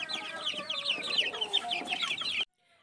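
Gamefowl chickens cluck and chatter densely in a steady, close flock for over two seconds, the noise cutting off abruptly near the end with only faint background after.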